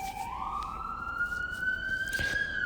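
An emergency vehicle siren passes outside, a steady rising wail heard at moderate distance and slowly climbing in pitch, alone with no talk over it.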